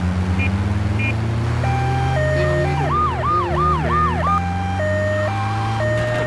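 A loud electronic ambulance siren from GTA 3 wails in rising and falling sweeps, close and continuous, over a low engine hum.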